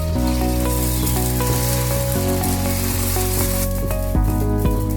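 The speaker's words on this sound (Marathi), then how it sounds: "पहिले प्लेन डोशाचं पीठ टाकूया." Plain dosa batter sizzles steadily on an oiled griddle, with a continuous bright frying hiss and a few soft clicks and taps over it, fairly close and with no talking.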